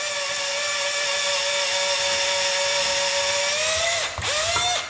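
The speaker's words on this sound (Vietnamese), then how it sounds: "Mình để chế độ khoan thì nó không ngắt ha các bạn" Close, continuous high whine of a National cordless drill running in plain drill mode, holding steady for about four seconds before briefly dipping and spinning straight back up at full speed.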